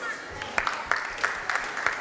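Applause from an audience at a Kumon award ceremony, with sharp, fairly regular claps standing out over a broad wash of clapping, moderately loud and continuous.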